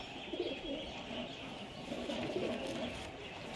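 Pigeon coos from a loft of old, prize-winning racing pigeons, a low soft burbling that swells and fades continuously over a steady background hiss, no talking.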